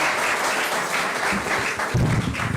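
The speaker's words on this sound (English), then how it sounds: "I feel like Julianne deserves a bigger round of applause for that" An audience at a biodiversity summit session applauds a speaker with sustained, fairly close clapping, joined by a few low bumps and murmurs toward the end.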